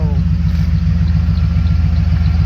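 A 1989 Chevy Caprice with a 5.7 V8 idles after a cold start, a close, loud, steady low rumble with an even throbbing pulse that does not change.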